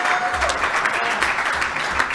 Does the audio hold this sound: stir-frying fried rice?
no